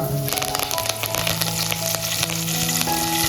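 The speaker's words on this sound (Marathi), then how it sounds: "तर आपलं तेल आहे ना छान प्रकारे गरम झालंय आता सर्वात अगोदर काय करूया त्याच्यात टाकूया कढीपत्ता" Curry leaves hit hot oil for a fasting-day sabudana khichdi, giving a loud, steady crackling sizzle with sharp pops that runs the whole time, with no talking.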